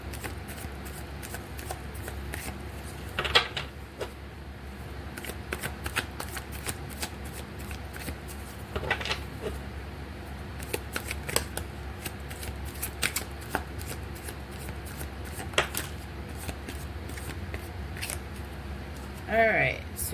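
Tarot cards are shuffled in a quiet room, a steady soft riffle and patter of card edges over twenty seconds with occasional sharper snaps, close but faint, with a person talking in places.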